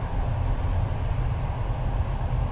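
A Polish second-class train running from Gdansk to Krakow gives a steady low rumble from inside the carriage, with rolling rhythmic undertones and no voices.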